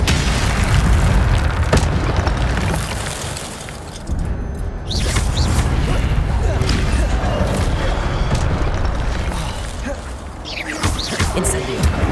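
Incendio fire spell blasts in Hogwarts Legacy, a dense run of booming, crackling bursts layered over combat noise and game music, continuous and loud throughout.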